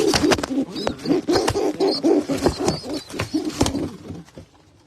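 A teddy pigeon coos repeatedly at close range, a rhythmic series of soft throaty calls with sharp flutters or clicks in between, fading out toward the end.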